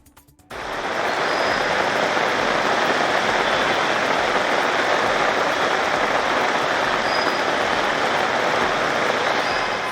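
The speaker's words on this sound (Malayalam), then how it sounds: "സംസ്ഥാനത്ത് പെയ്യുന്നത് അതിശക്തമായ മഴ." Heavy monsoon rain pours down in a dense, steady roar of drops hitting surfaces, loud and unbroken after a brief quiet start.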